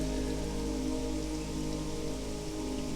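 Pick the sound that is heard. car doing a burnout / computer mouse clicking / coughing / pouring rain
pouring rain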